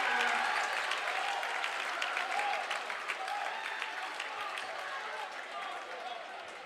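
A high school basketball gym crowd bursts into loud applause and cheering after a dunk, sustained clapping and shouts close by that slowly ease off, with a commentator talking over it.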